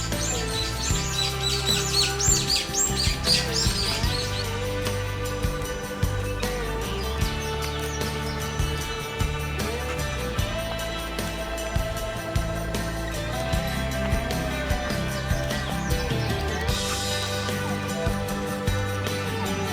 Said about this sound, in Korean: 야, 뻐꾸기 소리 참 정겹네.